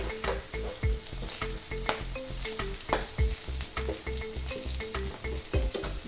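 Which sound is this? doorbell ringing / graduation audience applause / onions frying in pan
onions frying in pan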